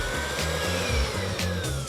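An electric mixer beats cake batter after an egg and vanilla seeds are added, a steady close motor whir with a rhythmic low churning pulse.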